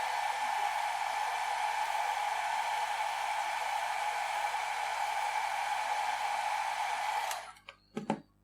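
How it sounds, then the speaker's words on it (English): A hair dryer blows continuously at close range over wet alcohol ink, a steady whooshing drone that cuts off abruptly near the end, followed by a few brief handling knocks. "And then I will fold the dryer over here and just dry it simply."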